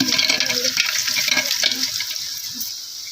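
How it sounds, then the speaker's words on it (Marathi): Mutton masala is stirred and sautéed in a pan, with a dense sizzle and spatula scraping that ease off toward the end. No one speaks. "आता हे सगळं असं हलवून घ्यायचंय आपल्याला मस्त असं सगळीकडून परतून घ्यायचंय"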